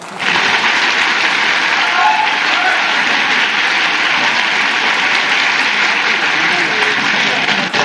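Loud, dense applause from the audience for the guests at an FC Machida Zelvia club event, a continuous even roar of clapping that starts abruptly and holds strongly throughout.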